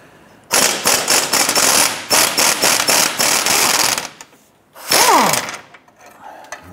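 Rapid clattering of a power tool driving a T55 Torx bit and a 21 mm wrench on a control arm nut and bolt of a 2006-2013 Chevrolet Impala, sounding as loud staccato bursts, a pause, then a final whirring burst.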